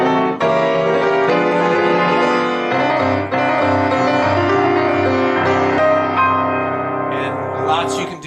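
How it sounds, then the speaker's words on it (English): Piano playing a sustained sequence of diminished seventh chords in the old silent-movie style, full and ringing, alone with no talk, shifting harmony every second or so. "diminished 7th chords, which are the silent movie kind of chords"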